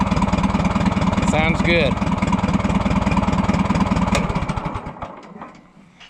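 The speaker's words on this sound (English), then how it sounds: "How low will it idle? About right there." An Oliver 60 tractor engine idles low and steady with an even putting beat, then dies away toward the end. Someone speaks briefly over it.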